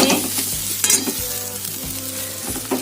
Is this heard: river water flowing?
no